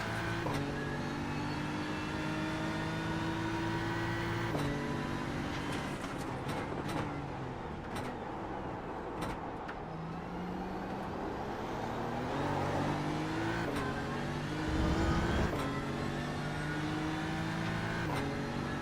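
Engine of a BMW GT3 race car in a racing video game, a steady high-pitched drone that climbs through the gears with repeated shift drops and a few sharp downshift blips under braking, loud and continuous throughout.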